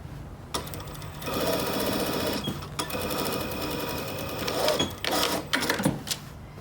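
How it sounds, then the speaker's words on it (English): A sewing machine stitches a pillow insert closed, a close, steady mechanical whirring run broken by short pauses and stops, with a few brief bumps near the end. "we've got to use it anytime we're sewing an insert closed like this"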